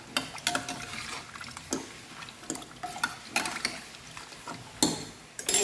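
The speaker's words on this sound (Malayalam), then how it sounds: "ഇതൊന്ന് ഇളക്കി കൊടുക്കാം" A spoon scrapes and knocks around a pot of lentil and papaya curry with turmeric and salt, giving irregular clattering strokes and scraping over a low frying hiss.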